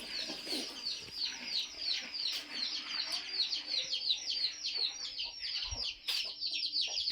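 Chickens and small chicks cluck and cheep continuously nearby, a dense chorus of high peeping calls with softer clucks underneath.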